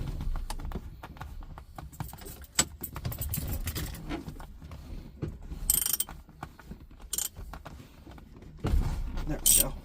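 A half-inch drive ratchet breaking loose an M12 12-point bolt on a Mk4 heater core job, with clicks, clanks and sharp metallic jolts in bursts near the microphone.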